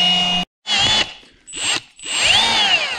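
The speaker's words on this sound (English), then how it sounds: "So we're drilling these out and we'll go from there." A power drill drilling through an aluminum bracket whines in several bursts, starting and stopping, its pitch rising as it spins up, loud and close with brief pauses between.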